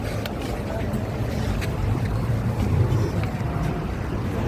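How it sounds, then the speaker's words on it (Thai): A steady low engine drone of a speedboat rumbles on under wind buffeting the microphone, holding fairly even throughout, as the boat approaches. "เรือเรามาแล้ว"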